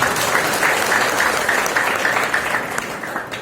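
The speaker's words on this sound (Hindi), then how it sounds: "आप तालियां बजा सकते हैं" Sustained applause from a seminar audience in Barharwa, Sahibganj, steady and fairly loud throughout, fading slightly at the end.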